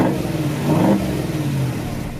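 A GMC Sierra truck's 6.2-liter V8 with sport exhaust revs up, swelling into a brief loud rise and falling back to a steady rumbling idle, heard up close with no voices.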